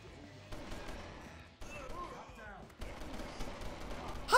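Gunshots in the video game LA Cops: several sharp, fairly quiet shots and bursts spread unevenly through the clip, with a louder impact at the very end.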